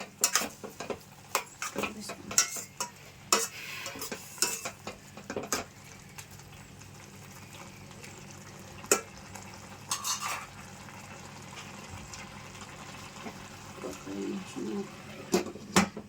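Intermittent scraping and clinking of a spoon stirring sugar syrup in a pan for khaddu ka halwa, irregular strokes over a quiet bubbling background.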